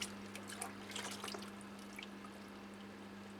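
Water is poured over a potted Dendrobium chrysotoxum orchid to soak it through, giving faint splashing and dripping in a short burst early on that tapers into quiet trickles over a steady low hum.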